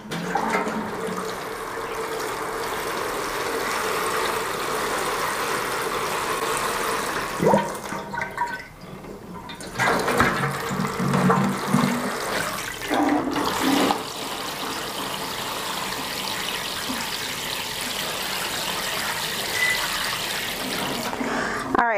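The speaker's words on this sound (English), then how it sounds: "We're going to pour some water in here, and so we can start soaking our plants while we work on the container." Water is poured into a clear container for soaking plants, a long gurgling, splashing flow with trickles and drips; brief bumps and handling noises break in partway through.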